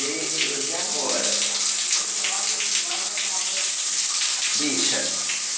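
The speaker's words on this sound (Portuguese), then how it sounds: "o chuveiro não fecha mais" Continuous hiss of a shower that will not turn off, water running close up, steady and loud, with a few brief murmurs of voice underneath.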